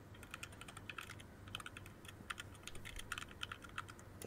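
Faint, rapid clicking of a computer keyboard, steady irregular keystrokes running throughout with occasional louder taps, heard alone without talking.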